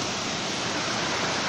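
Small waterfalls in a shallow stream at a bathing resort in Paraíso do Norte, Mato Grosso, give a steady, dense rush of flowing water, close and continuous with no voices.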